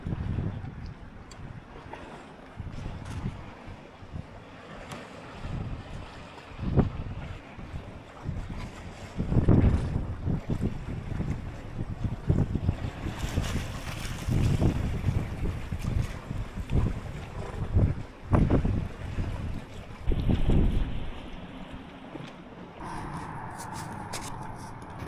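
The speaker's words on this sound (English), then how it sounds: "It's windy, the sea's quite rough today." Strong wind buffets the microphone in gusts while rough sea water churns and slaps near Drøbak, Norway, continuous and loud throughout.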